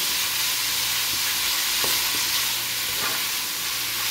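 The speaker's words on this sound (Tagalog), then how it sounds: "malapit nang maluto yung ating ginigisang karne" Meat sautéing in a pan with African eggplant gives a steady, close frying sizzle throughout, with a few soft stirring scrapes and no talking.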